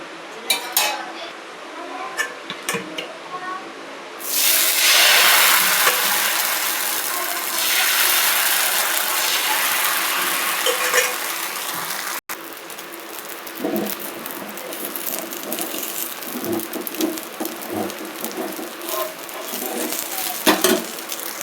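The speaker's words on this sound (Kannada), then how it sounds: "ಈಗ ದೋಸೆ ಹಾಕೋಣ." Rava dosa batter made from rice and semolina, with onion, coriander and curry leaves, hits a hot pan and bursts into a loud sizzle, followed by scraping and clinking of a utensil, with speech in between.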